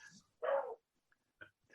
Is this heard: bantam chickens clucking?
no